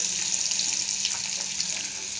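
Onions sizzling in hot oil in a kadai with tempering spices, for a raw potato fry curry: a steady, close, bright hiss throughout, with no talk.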